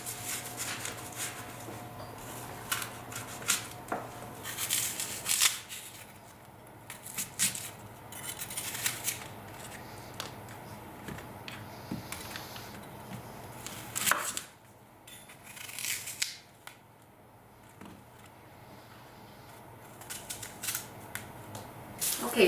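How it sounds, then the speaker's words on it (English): A knife cores and cuts apples into small pieces for a stovetop apple crisp, giving repeated sharp chops and clicks against a cutting board in uneven runs, close and moderately loud, with occasional quiet pauses. "we're going to core them and cut the apples up into small pieces."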